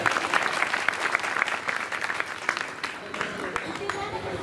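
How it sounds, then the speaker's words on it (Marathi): An audience claps during a bhajan at a temple gathering, a dense, steady patter of many hands close by, mixed with voices talking throughout. "मी यांना सांगितलं का टाळ्या वाजव"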